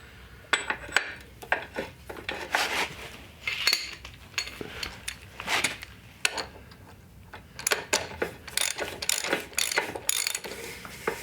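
Ratchet wrench tightening the ball joint stud nut on a Jeep CJ7 Dana 30 front axle: repeated sharp metallic clicking strokes in irregular bursts, close and clear, with brief pauses between pulls.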